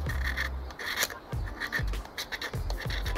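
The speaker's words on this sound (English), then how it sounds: "Let's get some magnesium shavings" A magnesium fire starter stick is scraped to make shavings at a bushcraft campfire, giving a series of rough, rasping strokes up close, repeated in an uneven rhythm.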